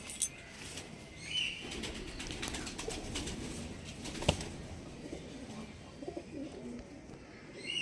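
A pair of Black Diamond pigeons, with soft wing flaps and fluttering, a few low coos, and a sharp clap of wings midway, heard close against faint background noise.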